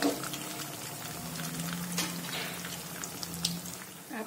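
Wheat flour snack pieces deep frying in hot oil over a low flame, giving a steady, soft bubbling crackle with scattered pops throughout and no voices.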